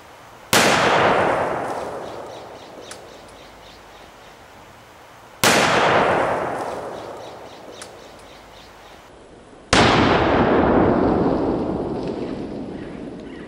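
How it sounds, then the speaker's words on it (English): Three loud .30-06 hunting rifle shots fired into a house wall, each a sharp crack followed by a long decaying echo, spaced several seconds apart. "This is a .30-06 rifle."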